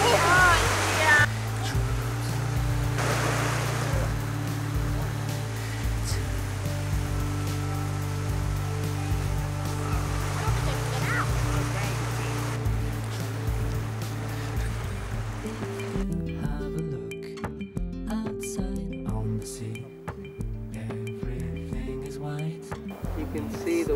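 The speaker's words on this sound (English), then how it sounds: "So the falls are still flowing" Steady rushing water roars throughout, a broad continuous wash like a waterfall, with muffled outdoor noise and handling shifts partway through.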